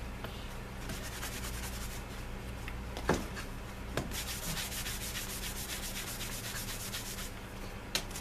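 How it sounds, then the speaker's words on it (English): A cloth rubs back and forth across leather belt billets to buff off excess dye. It makes a steady, close, scratchy rubbing sound with a few light knocks. No one talks. "So first thing I'm going to do is buff off the excess."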